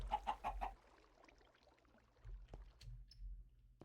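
A Minecraft chicken clucks in a quick burst of four clucks at the start, followed by quieter scattered game noises and a few low thumps.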